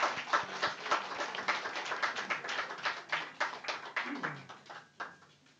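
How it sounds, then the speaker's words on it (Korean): Congregation applauding in a church service, a dense, sustained round of hand claps filling the hall at moderate level and gradually thinning toward the end. "박수 한번 해주시죠"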